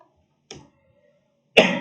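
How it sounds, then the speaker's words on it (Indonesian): A man coughs twice, a short muffled cough followed a second later by a louder, harsher one, close up in a quiet room. "Mohon maaf ya, saya sedang sedikit batuk."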